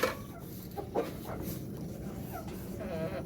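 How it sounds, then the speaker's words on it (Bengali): Chickens cluck softly while eating scattered feed under a tarpaulin cover, short faint calls over a quiet background, with a few brief louder noises. "এই যে মুরগিগুলোরে খেতে দিয়েছে, মুরগিগুলো খাচ্ছে।"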